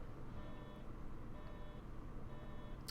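A bus lateness warning in the OMSI 2 bus simulator game beeps in three evenly spaced bursts over a steady low engine hum, quiet and repetitive.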